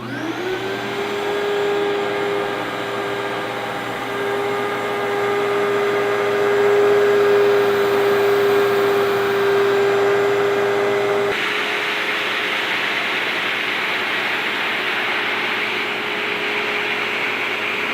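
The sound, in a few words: vacuum cleaner sucking up sand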